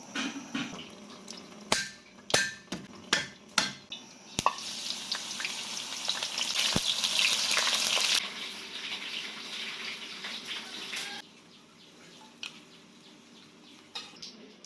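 Aromatics and then insects fried in oil, heard as a steady, close bubbling crackle of hot oil, with sharp knocks at the start and the frying quieting toward the end.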